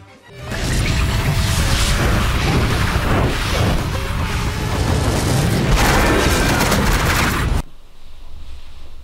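A loud, sustained anime explosion from Akame ga Kill roars for several seconds with crashing, rumbling debris, then cuts off abruptly to a quieter background.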